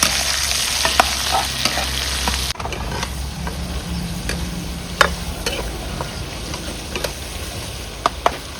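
Eel frying in a pan while it is stirred, for braised eel with banana blossom in coconut; a steady close sizzle runs throughout, broken by scattered utensil scrapes and clicks, with no voices.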